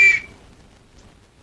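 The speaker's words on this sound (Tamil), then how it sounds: "அப்புறம் ஏன் விசில் ஊதுற?" A single short, shrill whistle blast sounds at the very start and cuts off quickly, leaving faint room noise, in a comedic film scene.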